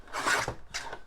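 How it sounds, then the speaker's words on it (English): A paper trimmer slices a thin sliver of paper with two short, close scraping swipes, the first longer than the second. "let me get my trimmer. And I'm just trimming this very wee little sliver"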